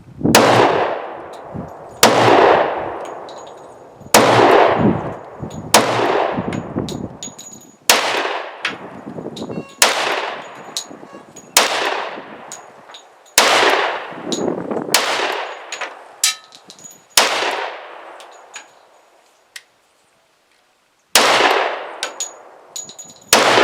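A Smith & Wesson 10mm pistol fires at metal targets, about a dozen loud sharp shots, each followed by a ringing clang and decaying echo, spaced irregularly with one longer pause.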